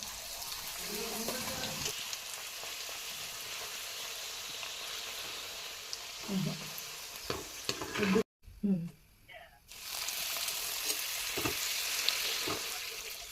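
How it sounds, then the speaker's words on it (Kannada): Puris deep-frying in hot oil give a steady broadband sizzle through most of the stretch, broken by brief bubbling bursts and a short drop to silence midway before the frying hiss returns at full strength. "ಈಗ ಪೂರಿ ಕರ್ಕೊಳತ್ತೀನಿ ನೋಡ್ರಿ ಎಣ್ಣೆ ಒಳಗೆ"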